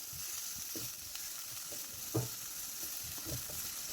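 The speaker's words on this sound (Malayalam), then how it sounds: "എല്ലാം കൂടി ഒന്ന് ഇളക്കി കൊടുക്കാം." Chopped tomato is stirred into semiya and egg upma in a pan, giving a soft continuous sizzle with close scraping taps from the spoon and no talk.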